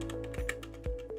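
Keys click on a computer keyboard as a word is typed into an effects search field, a quick run of close taps over a steady background hum.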